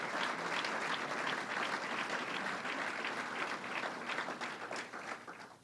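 A crowd at the New York State Fair applauds during a speech by Governor Cuomo announcing a green fair, sustained dense clapping that holds steady and then begins to fade at the end.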